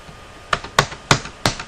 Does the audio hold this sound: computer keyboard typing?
yes